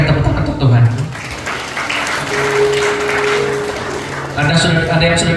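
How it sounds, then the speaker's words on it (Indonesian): A church congregation at an Indonesian Christmas service claps together in a broad, steady wash of applause lasting several seconds, with voices briefly heard at the start and end. "Berikan tepuk tangan untuk Tuhan."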